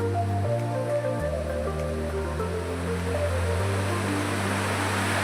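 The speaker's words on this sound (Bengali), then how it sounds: "ঝর্ণার স্রোত" A waterfall stream on Parasnath hill in Jharkhand rushes in a dense, continuous wash of water noise. A low, steady tonal drone shifts pitch underneath it.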